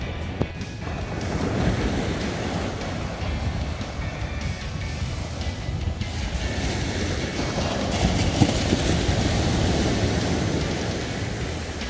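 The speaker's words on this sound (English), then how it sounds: "The main attraction here is always the ocean." Ocean waves roll in on an East Coast beach, a steady broadband wash of surf that swells slightly louder toward the end, with no one speaking.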